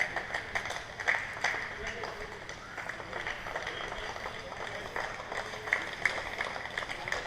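Scattered applause at a lawyers' cricket match between the Barristers of England and Wales and India as a batsman walks off, moderately distant clapping running under a commentator's voice.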